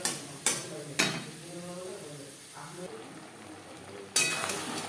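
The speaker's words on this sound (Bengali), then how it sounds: "হাই টু মিডিয়াম ফ্লেমে ম্যারিনেট করা চিকেন নাড়াচাড়া করে দেবো" Marinated chicken for butter chicken is stirred in a pan over a high-to-medium flame, giving a soft steady sizzle broken by three sharp utensil scrapes against the pan, close and moderately quiet.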